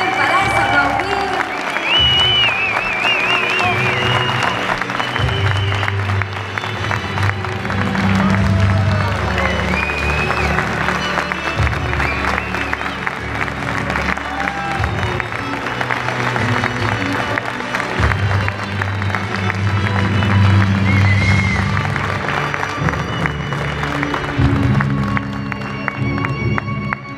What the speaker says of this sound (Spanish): nos despedimos esta noche con un fuerte aplauso para ellas